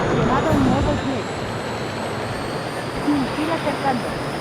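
Jet aircraft engine in the PlayStation game Eagle One: Harrier Attack, a continuous roaring drone with a rising whine under in-game radio speech.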